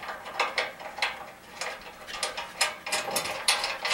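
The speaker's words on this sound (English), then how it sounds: "And then I'm just going to hand tighten this nut on the back." A nut being spun by hand onto a carriage bolt on the back of a bumper rebar on a 2000 Voyager, giving a series of quiet, close metallic clicks and ratchety scrapes in irregular bursts.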